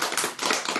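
A few sharp claps ring out in quick succession, bright and close, lasting under a second.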